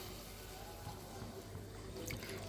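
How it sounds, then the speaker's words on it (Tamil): Half a tumbler of water pours into a mixer jar while making aattu eeral (mutton liver) gravy, a steady close splashing trickle lasting a couple of seconds with faint background noise. "நான் ஒரு ஹாஃப் டம்ளர் தண்ணி ஆட் பண்ணுறேன்"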